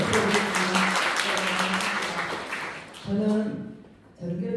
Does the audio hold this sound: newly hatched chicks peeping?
no